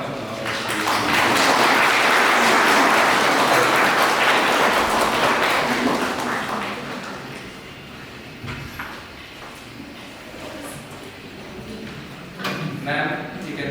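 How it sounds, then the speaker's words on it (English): Audience at a book launch applauding in a dense, loud wash of clapping that swells for several seconds and then fades into quieter room noise and scattered sounds. "Shall we all give a round of applause?"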